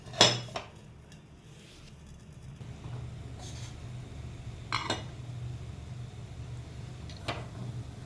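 A lid is set onto a cooking pan holding a semolina snack, giving a sharp metallic clink at the start and a second knock soon after, followed by faint kitchen clatter over a low steady hum.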